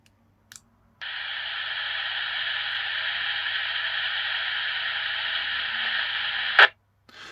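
Crackly static hiss from a Baofeng UV-5R handheld radio with its squelch opened indoors, a steady rush lasting several seconds that cuts off with a sharp click, with a brief click before it.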